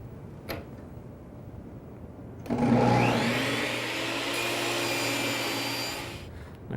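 A table saw fitted with a miter setup and stop block spins up with a sharp whining roar, then cuts miters in wood pieces, sustained and steady, fairly close, ending with a faint click.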